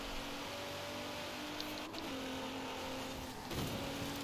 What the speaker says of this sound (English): that Honda Civic GRC sounds like trash